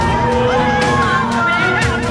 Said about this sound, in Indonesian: Mendapat sorakan dari para emak-emak dan para wanita muda